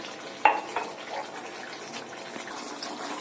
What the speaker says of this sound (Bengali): আর একটু পানি দিতে হবে।